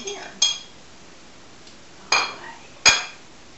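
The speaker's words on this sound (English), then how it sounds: "Whisk out so it starts melting." A metal whisk works cream cheese into canned enchilada sauce in a pan, giving three sharp, bright clinks against the pan, spaced apart and ringing briefly over a quiet background.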